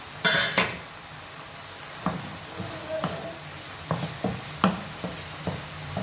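Minced meat tipped into a cooking pan of vegetables, with scattered clinks and knocks of a utensil against the pan over a low sizzle, several sharp clatters spaced across the moment and no talking.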